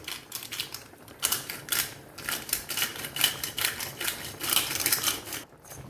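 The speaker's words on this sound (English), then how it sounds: "freshly cracked pepper," A pepper mill grinds black peppercorns in a kitchen while a zucchini tomato pasta sauce is made, giving a steady series of dry, close ratcheting crunches.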